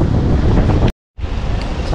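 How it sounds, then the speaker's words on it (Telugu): Strong wind at the seashore in Dhanushkodi, roaring loudly and continuously as heavy buffeting against the microphone, with surf underneath, cutting out abruptly for a brief moment before resuming. "చాలా అంటే చాలా గాలి వస్తుంది"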